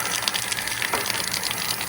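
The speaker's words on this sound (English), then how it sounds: "If I twist this here, I get soda water." Soda water gushes from a Lillium faucet in a steady, close, hissing rush of fizzy liquid with no pauses.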